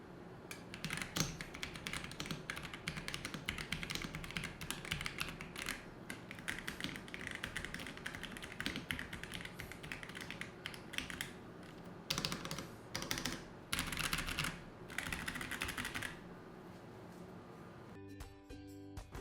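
Fast typing on a Pressplay Apollo 61 Lite keyboard with tactile switches, a quick run of close, crisp keystrokes broken by brief gaps near the end.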